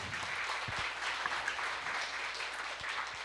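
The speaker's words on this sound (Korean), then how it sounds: "나오실 때 우리 환영의 박수로 함께 해주시기 바랍니다." A church congregation claps in welcome as the pastor comes forward, a continuous, fairly quiet patter of many hands with a few low thumps underneath.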